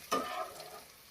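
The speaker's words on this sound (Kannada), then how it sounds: "ಒಗ್ಗರಣೆ ಮಾವಿನಕಾಯಿ ಪಲ್ಯ" A tempering for raw mango palya hits hot oil in one sharp burst of sizzling that quickly fades to a quieter crackle, brief and without voices.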